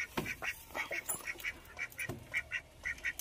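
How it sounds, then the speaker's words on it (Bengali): A caught domestic duck quacks in a quick series of short, nasal calls at a steady rhythm, close but fairly quiet, with no talking. "হাঁসটা কিন্তু ধরে ফেললাম"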